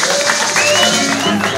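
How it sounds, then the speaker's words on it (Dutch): Short burst of audience applause for an eight-year-old young performer at a music venue, steady dense clapping with faint crowd sounds and a tonal hum underneath. "Een heel ander applaus voor deze jonge heer."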